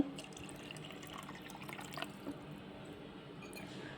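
Half a cup of water pours into a mixer jar of mango milkshake ingredients, a soft close trickle and splash with faint drips, quiet and steady throughout.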